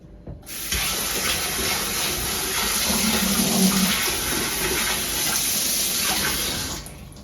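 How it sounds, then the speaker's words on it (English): A big sharp kitchen knife is held under a cold running tap while making homemade sushi, giving a steady, loud rush of water that starts abruptly, runs evenly for several seconds and then cuts off, with no talking. "I'm going to run it under cold water."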